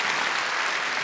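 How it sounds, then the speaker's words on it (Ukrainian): Studio audience applause at a televised national music contest final, a brief, dense, even burst of many hands clapping at a steady level. "Спасибо за аплодисменты, я наслушался."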